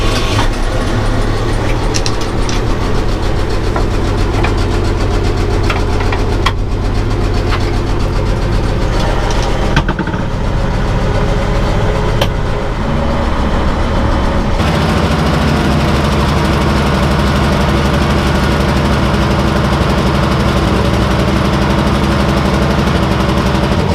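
A 50-year-old dump truck's engine runs at a steady, loud idle, a low rumbling drone with a faint knock that holds throughout, shifting slightly in tone partway through.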